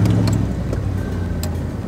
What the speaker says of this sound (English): The old Dodge fired up.